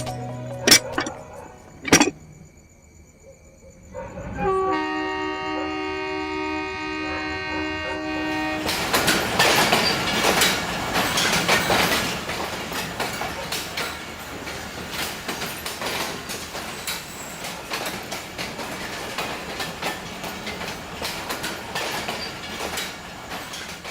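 A railway train sounds a loud horn blast with sustained tones, then runs on in a loud, steady rumble and clatter of wagons for the rest of the stretch, with no talking.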